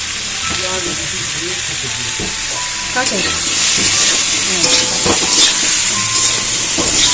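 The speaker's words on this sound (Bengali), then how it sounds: "আমি কড়াইটা নাড়ছি, তো কড়াই উল্টে পাল্টে যাচ্ছে" Spices and turmeric sizzle in a hot kadai while being stirred, a steady frying hiss with scraping stir strokes that get louder and busier partway through; a few faint voices in the background.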